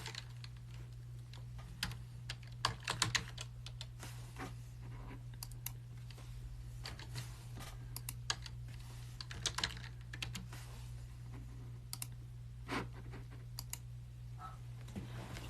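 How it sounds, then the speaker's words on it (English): Computer keyboard keys clatter in irregular bursts of quick, close clicks over a steady low electrical hum, with no talking. "Using the keyboard."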